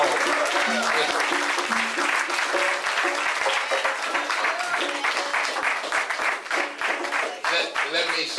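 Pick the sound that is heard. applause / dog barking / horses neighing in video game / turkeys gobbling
applause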